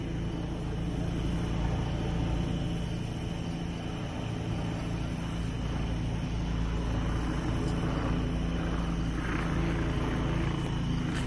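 Police helicopter over a dog park in St Paul, a steady broadband rotor and engine drone that holds at the same level throughout, with no talk.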